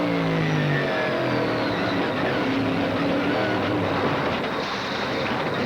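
Onboard a 1992 Trans Am race car at Portland during a crash: the engine note drops away early, then a loud, continuous rough rumble and scraping roar follows, with no talking.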